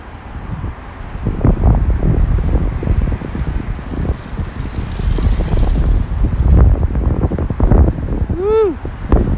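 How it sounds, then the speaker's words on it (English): Gusting wind buffets a microphone outdoors at sunset in Brooklyn, a rough, loud rumble rising and falling throughout, with a brief chirp-like squeak near the end. "I thought the wind died down, damn it."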